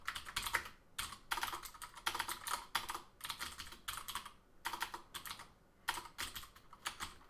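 Fast clattering typing on a computer keyboard, bursts of keystrokes separated by short pauses, close and alone with no voices.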